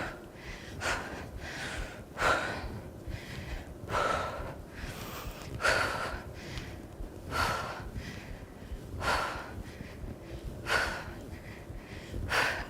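Heavy, rhythmic breathing during a fitness workout, loud close gasps and snorting exhales repeating roughly every one to two seconds, with no talking.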